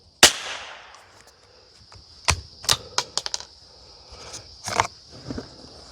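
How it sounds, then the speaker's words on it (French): A Tikka T1X .22 LR rifle fires a single sharp shot off target to warm a cold barrel, a loud close crack at the start followed by a fading tail and later scattered clicks and handling knocks. "Fait que j'ai fait un tir en dehors de la cible pour réchauffer le canon"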